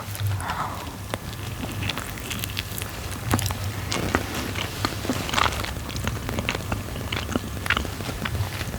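Close-up chewing of a tacos for ASMR, with soft wet bites, crunches and mouth clicks scattered irregularly over a quiet background hum.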